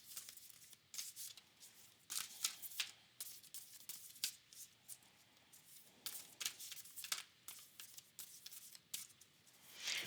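Tarot cards are shuffled and drawn by hand, a close series of soft riffling, flicking and papery slaps in irregular bursts with short pauses, with no talking.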